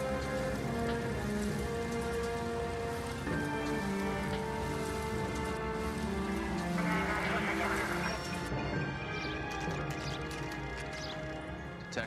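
Steady rain falls at a homicide crime scene in the video game L.A. Noire, a dense continuous hiss spread across the whole stretch, with game music and voices talking underneath.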